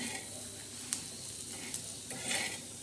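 Grated coconut being dry-roasted in a pan for black masala, with soft scraping stirs and faint sizzling broken by a few sharp clinks of a spoon against the pan, quiet and close, with no speech.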